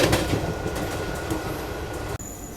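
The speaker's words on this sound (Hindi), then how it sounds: "वडोदरा के यार्ड को पार करते हुए फिलहाल सीधा एंट्री अब वडोदरा जंक्शन में हमारी होने वाली है।" A train of the Agra–Ahmedabad Special rolls through the Vadodara rail yard with a loud, steady rumble and rattle of wheels on track, heard from on board, with a brief dip near the end before the rumble resumes.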